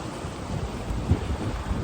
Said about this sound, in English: it's been savagely windy, you'll probably hear it through the camera